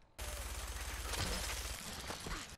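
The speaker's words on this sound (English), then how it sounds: "Can I use the minigun?" Minigun firing in Fallout 4, a dense, continuous roar of rapid shots that runs loud and steady for over two seconds before cutting off.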